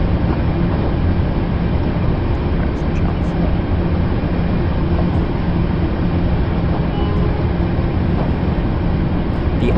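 Train simulator game sound of a train running on the Isle of Wight line, a continuous loud rumbling roar with rail noise and no breaks, alongside narration.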